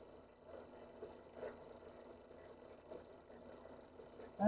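A machine runs steadily while polishing parts during the break-in period, producing a low, even mechanical whir and rattle, faint and continuous with no talk.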